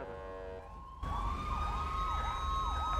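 An ambulance siren in a driving video game wails in a repeating rising-and-falling pattern, starting abruptly after a brief different tone and staying loud and steady over low engine rumble.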